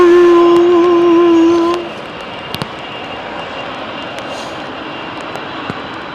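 An ANA Boeing 787-9 in R2-D2 Star Wars livery departs runway 27R at London Heathrow. Its engines give a loud, steady tonal howl for almost two seconds, then drop to a softer, broad rumbling roar with no talking.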